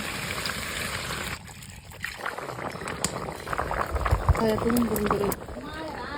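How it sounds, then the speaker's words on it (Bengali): Water poured into a pan of river tengra fish frying in ground spice paste, a bubbling trickle and splashing hiss up close, with people talking over it. "মাছ কষানো হয়ে গেছে, এবার জল দিয়ে দেব"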